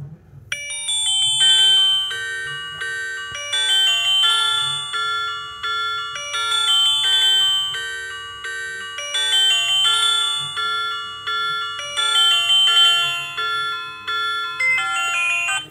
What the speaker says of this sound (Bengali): আমরা রিংটোনের সাউন্ডটা একটু শুনবো।